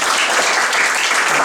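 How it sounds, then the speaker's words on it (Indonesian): A church congregation claps together for God during a sermon, a dense, steady wash of hands filling the room for a brief moment. "Tepuk tangan dulu buat Tuhan."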